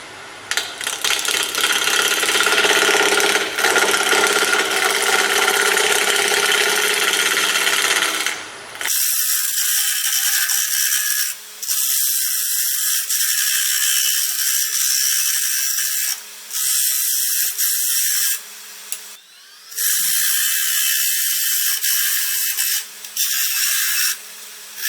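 Wood lathe spinning a walnut bowl blank at 1,000 RPM, a steady mechanical whir with gouge scraping in a loud continuous stretch, then interrupted bursts of cutting separated by brief pauses.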